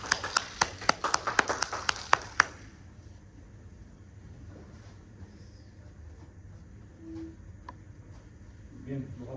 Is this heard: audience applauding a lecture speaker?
yes